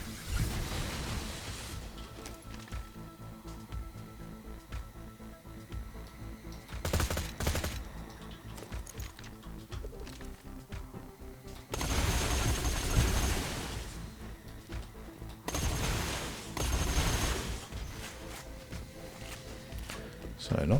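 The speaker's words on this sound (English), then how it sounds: "I keep forgetting this Bandit SMGs have a nice big magazine size." Bandit SMG with a big magazine firing in Borderlands 2 during a Digistruct Peak raid run, long rattling bursts of rapid automatic fire in several loud stretches over busy game noise, with a voice talking.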